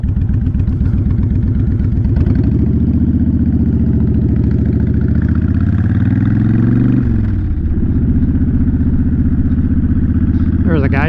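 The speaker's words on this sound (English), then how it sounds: "let's ride a little, get a little airflow going" A Honda Fury VT1300 cruiser motorcycle is ridden with a loud, steady low engine drone that shifts pitch as it changes gear around the middle, then settles into a constant rumble; the engine runs close and continuously throughout.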